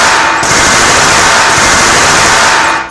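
Rapid automatic gunfire from a GAC weapon shot into a swarm of oversized rats, a loud, dense, unbroken rattle lasting about three seconds with no voices.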